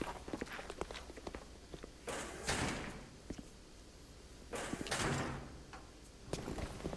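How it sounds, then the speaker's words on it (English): Door opening and closing in Metal Gear Solid The Twin Snakes, two distinct bursts of sliding-door mechanism noise over a quiet background with faint footstep-like clicks. "you do hear a door opening and closing and all that"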